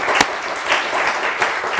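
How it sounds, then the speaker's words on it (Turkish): Studio audience on a Turkish television word-game show claps together in a steady, moderately loud burst of applause, with a few louder swells across the brief stretch. "Size bir alkış gönderelim."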